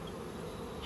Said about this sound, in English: just going to try and start pushing these bees in